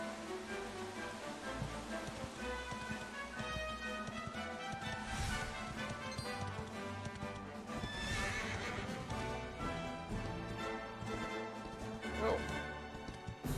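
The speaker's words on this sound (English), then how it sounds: "Don't I have an item that lets me summon the horse wherever they are?" A summoned horse in the Dragon Quest XI video game whinnies and trots in on clip-clopping hooves, set in a dense, busy game soundtrack with steady background noise throughout.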